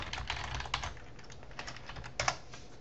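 Typing on a computer keyboard, a close run of light irregular key clicks with a few louder taps, steady and uninterrupted with no voice.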